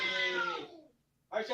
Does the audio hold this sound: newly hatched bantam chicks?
no